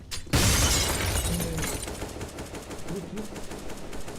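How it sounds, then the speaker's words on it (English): Flashbang grenade and gunfire in CS:GO: a sharp loud bang with shattering crackle, followed by bursts of rapid gunfire and clattering shots over the next few seconds. "Grenade out. Deploying flashbang."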